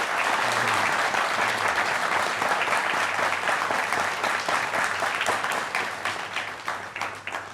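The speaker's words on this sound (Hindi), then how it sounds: "एक बार फिर जोरदार तालियां" Loud, dense applause from a large crowd at a televised Dussehra event fills the space, holding steady before gradually tapering off toward the end.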